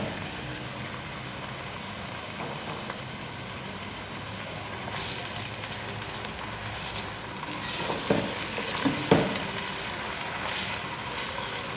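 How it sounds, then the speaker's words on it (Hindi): Half a kilo of minced keema frying with softened onions for Shinwari keema karahi, a low, steady sizzle at moderate distance with a few louder scraping stirs near the end. "तो 2 से 3 मिनट के लिए कीमे की भुनाई करेंगे"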